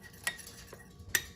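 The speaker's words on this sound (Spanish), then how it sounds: "La mezclamos bien para tenerla lista." Spoon clinking against a bowl while stirring a cornstarch and water mixture, two sharp metallic taps close by with quiet scraping between them.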